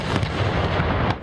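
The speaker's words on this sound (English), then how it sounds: "It was earth-shattering. It was quite an explosion." Loud explosion during army training, a deep rumbling boom with heavy low-end sustain and a couple of sharper bursts, heard alone.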